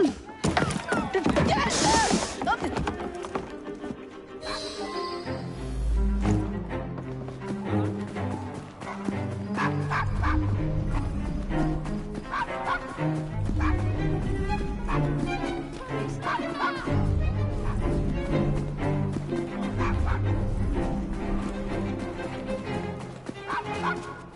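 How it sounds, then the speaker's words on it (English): A dog in the Assassin's Creed Syndicate video game barks and whimpers in short repeated yips, set against game music and ambient pub noise, with a voice speaking at times. "Nice doggy."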